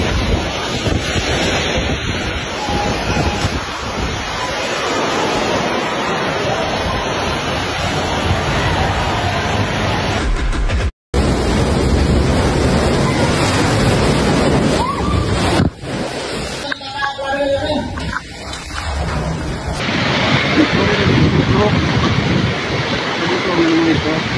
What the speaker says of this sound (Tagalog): medyo malakas na talaga yung hangin